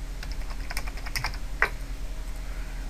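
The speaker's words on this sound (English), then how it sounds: "You always type in your full email address" Someone enters an email address on a computer keyboard in a few quick, light key taps, close up and fairly quiet, with one sharper click near the middle, no voices.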